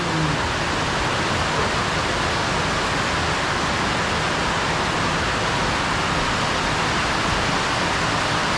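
Heavy rain pours steadily outside a house, a dense, even broadband hiss that holds unchanged for the full stretch with no voices over it.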